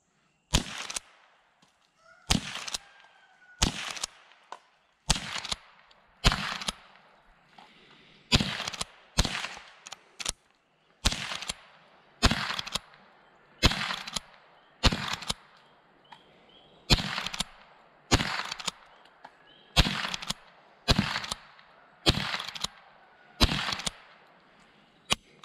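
Repeated sharp reports from a Winchester model 94/22 lever-action rifle shooting under bean cans to bounce them, roughly two dozen evenly spaced loud cracks with short decays and faint background sound between shots.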